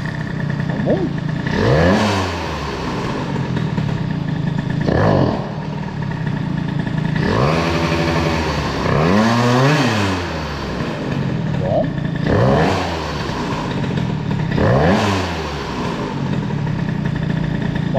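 A Peugeot 103 moped with a Doppler engine kit idles steadily, then gets several sharp throttle blips that climb and drop back to a clean idle, repeating at regular intervals nearby.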